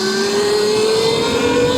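Motorcycle engine revving close and loud, a sustained buzzing tone rising slightly in pitch over under two seconds, with no talk.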